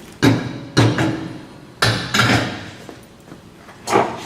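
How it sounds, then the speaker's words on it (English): A steel-wheeled tire is set onto a wheel balancer spindle with a centering cone, giving several heavy metallic clunks and knocks at uneven intervals, close and fairly loud in a workshop. "Slide on the centering cone, take the tire, that goes on next."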